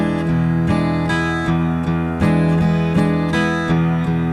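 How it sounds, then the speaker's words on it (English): Acoustic blues guitar strummed in even straight eighth notes, a steady ringing chord pattern with regular, evenly spaced attacks, close and loud with no voice. "That's where you divide the beat into 2 parts"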